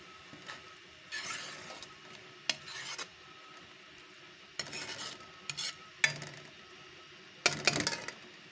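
Onion, tomato paste, garlic and ginger sautéing in a pan for Chicken Karela, with soft continuous sizzling broken by intermittent scraping stirs of a spoon, close and moderately quiet.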